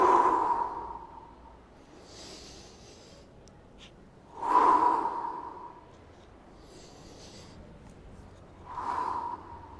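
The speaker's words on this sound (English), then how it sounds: "Big breath in, full exhale." Deep breath in and full exhale during a mobility workout, three slow breathing swells spaced a few seconds apart, close and soft against quiet background.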